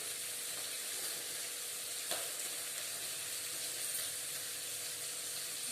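Food sizzling in a pan while cooking poori curry, a steady close hiss of frying oil running evenly throughout with no voices.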